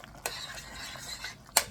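Cornstarch is stirred into a hot chicken marsala sauce in a pan, giving a brief, soft wet stirring hiss with a low sizzle under it. Two sharp utensil clicks land at the start and near the end.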